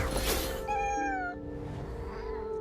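A cat meows in the video game What Remains of Edith Finch, a single drawn-out, wavering meow rising then falling, close and clear over soft background ambience.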